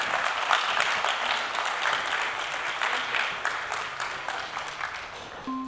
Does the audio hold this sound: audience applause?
yes